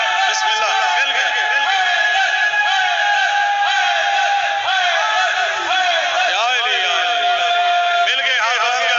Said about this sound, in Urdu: آپ نے نعرہ لگایا، آپ نے نعرے لگائے